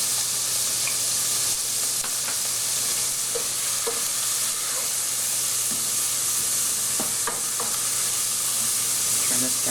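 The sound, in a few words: food frying and splattering in a pot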